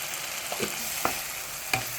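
Tomato mixture stirred as it fries in a pan for tomato rice, with a steady low sizzle and a few soft scraping strokes of the spoon, close and alone.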